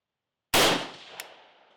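A single 5.45 rifle shot firing 59gr Red Army Standard ammunition cracks sharply after a moment of silence. A short, decaying echo and a faint click follow.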